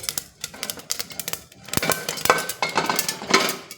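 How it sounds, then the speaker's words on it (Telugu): Rapid, irregular pops and crackles of sorghum grains bursting close by in a hot pan, growing denser with faint metallic clinks mixed in. "ఒకేసారి అవన్నీ గుల్లగా పేలిపోతూ ఉంటాయి కదా పేలాలు"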